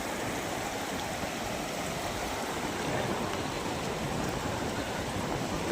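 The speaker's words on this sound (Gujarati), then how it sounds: "મોજું આવ્યું, એ આવ્યું." Waves wash continuously over a shallow, muddy beach where children play in the water, a steady broadband rush of surf with no distinct breaks and no talk.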